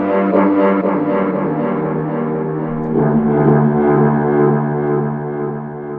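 A warm, sustained synthesizer pad called Astral Warmth plays layered held chords with a delay effect, its tones smoothly repeating and trailing off, loud and alone.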